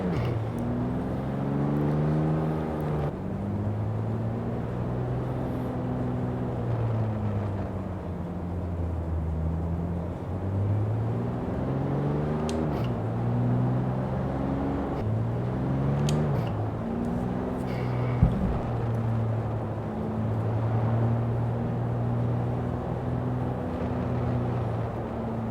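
Porsche 911 Turbo S driving in calm mode with its exhaust kept quiet, a smooth, steady engine drone and road hum from inside the car, pitch rising and falling gently as speed changes.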